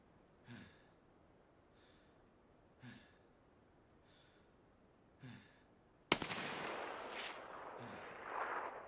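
Gunshots in Escape From Tarkov striking a downed body, three spaced single cracks followed by a louder, sustained burst of rapid fire with echoing tail.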